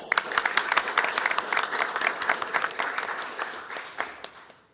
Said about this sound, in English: We'll clap anyway.